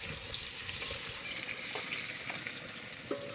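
Potatoes fry in a pan with a steady, soft sizzle and faint crackle. Occasional light clinks of stirring come through over the quiet, continuous frying.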